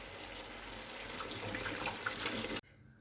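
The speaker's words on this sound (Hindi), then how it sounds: "इसमें पानी डाल देंगे।" Water poured steadily into a cooking pot for vegetable pulao, a continuous splashing gush at close range that stops abruptly near the end, leaving faint room hiss.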